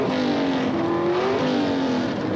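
1970s Pro Stock drag cars, a Hemi-powered Plymouth Volare and a small-block Chevrolet, roar off the start line with a loud, rising engine note that holds steady and then shifts once.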